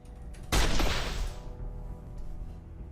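Gunfire from a custom possessed pistol in a video game, a single loud burst of shots with a crashing, noisy tail that fades over about a second, leaving low background rumble.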